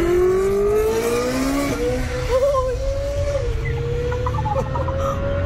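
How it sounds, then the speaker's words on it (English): A straight-piped Ferrari 458 Italia exhaust roars loud and close, the engine tone rising and shifting as it revs, dominating throughout with brief voices under it. "That's a Ferrari."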